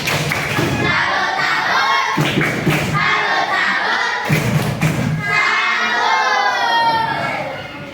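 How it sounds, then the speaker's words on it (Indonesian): Classroom group doing a rhythmic salute clap chant, bursts of clapping in patterned beats alternating with children's voices and shouted cheering, loud and close. "kasih tepuk salut untuk kelompok kita"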